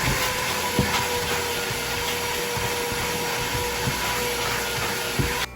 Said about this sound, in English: I'm going to go ahead and vacuum this carpet out